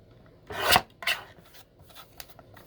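Blade trimming a paper wine flyer down to size: two short, raspy cutting strokes close up, followed by a few faint scratchy touches in a quiet room.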